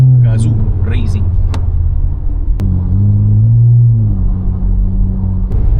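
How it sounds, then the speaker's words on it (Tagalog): Ford Mustang GT500 muscle car passing on a Sunday car club run in the Philippines, its deep engine rumble loud and close and swelling through the pass, with people talking over it. "Here comes the GT 500 of Boss Ravi."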